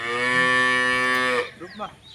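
Cattle in a village give one long, loud, drawn-out moo close by that ends abruptly, followed by faint background noise.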